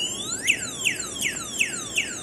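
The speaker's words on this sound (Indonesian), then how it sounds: "nagre-resist lumalaban kasi naka-activate yung alarm" The anti-theft alarm on a MOBER S10 full-suspension electric bike with a rear hub motor sounds a loud, repeating electronic chirp. Five regular, descending whoops ring out nearby with no voices.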